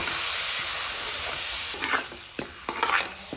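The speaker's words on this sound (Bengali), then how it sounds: "এই পর্যায়ে আমি দিয়ে দিচ্ছি গোশ। এখন নেড়ে চেড়ে গোশগুলো আমাদের মশলার সাথে ভালোভাবে মিশিয়ে নিতে হবে।" Goat mutton pieces hiss and sizzle in a hot spice masala, a steady frying hiss first and then several close scraping stirs that mix the meat into the paste.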